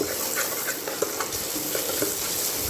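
Spices sizzle in hot oil as a spoon scrapes and stirs them around a pan for egg curry, with a steady crackling hiss and soft clinks.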